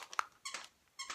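Small pets give short high squeaks, three brief bursts spaced across about a second, quiet and close in an indoor room.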